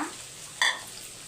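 Four eggs frying in oil in a pan on low heat: a soft steady sizzle with a brief brighter crackle partway through.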